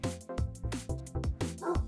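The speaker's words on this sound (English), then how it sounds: "He's just barking away." A dog barks repeatedly and closely, about six short yapping barks in quick succession, some with a whiny edge.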